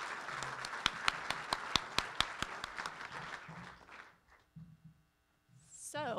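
A lunchtime audience gives a round of applause for Janice Hahn in Torrance, California. Sharp, distinct hand claps patter over a roomy hum, then thin out and fade after about four seconds.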